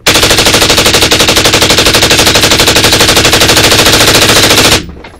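A Sabertooth Micron rifle in 5.56 with an 11.5 inch barrel fires one long full-auto burst, a loud, rapid, evenly spaced stream of shots lasting about five seconds before stopping abruptly.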